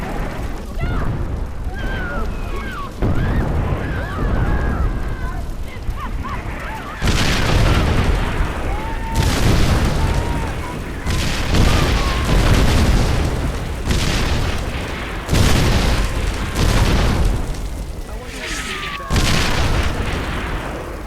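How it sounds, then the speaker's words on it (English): Artillery shells explode again and again in Far Cry 4, a run of heavy booms every couple of seconds with rumbling tails. Shouting voices come through between and under the blasts. "You have artillery rounds incoming."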